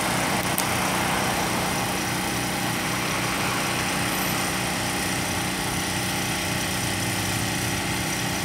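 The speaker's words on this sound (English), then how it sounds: "They run electricity by a generator" A generator runs steadily and loudly nearby, a continuous engine drone with no breaks or change in pace.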